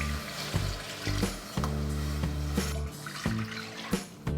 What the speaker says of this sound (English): pour in the liquid, all the turkey drippings and the broth. Pour in the liquid gradually and whisk